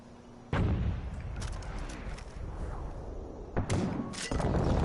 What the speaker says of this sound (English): Yeah, but why does that make them shoot mortars?